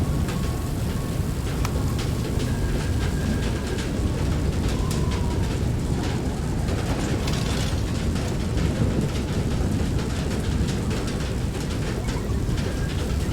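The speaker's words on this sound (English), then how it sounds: "I really like the sound of the rain hitting the outside of the wagon." Steady, dense patter of rain drumming on the outside of a wagon in the game FAR: Lone Sails, a continuous hiss with occasional small knocks and mechanical clicks, no voices.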